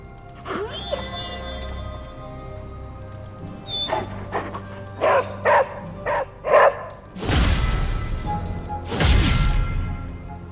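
Charlie, a dog in the video game Marvel's Midnight Suns, gives a run of short, clear barks in quick succession, with game sounds and bursts of noise around them and little talk.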